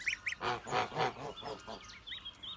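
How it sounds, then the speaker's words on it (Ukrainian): Young Kholmogory goslings honk close by in a quick run of five or six loud, nasal calls, followed by softer peeps and chirps. "Мої маленькі гуси, ходіть до мене."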